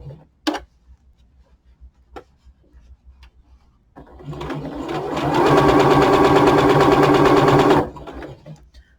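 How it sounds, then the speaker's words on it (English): A sewing machine stitching across the top edge of a hat, starting after a few light clicks and running steadily for about four seconds before stopping. "now I'm going to sew across the top as close to the edge as I can"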